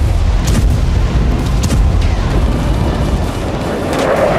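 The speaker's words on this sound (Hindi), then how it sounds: "जहां हिजबुल्लाह के सेंटर को उड़ा दिया गया।" A bomb blast brings down a Hezbollah centre building in Taybeh, Lebanon, during an Israeli military strike, heard as a continuous loud, rumbling roar of debris and low booms throughout, with a few sharper cracks.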